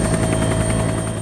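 A helicopter flies over the remote landscape of northwest Greenland toward Petermann Glacier, its rotor chop loud, close and steadily pulsing with no voices.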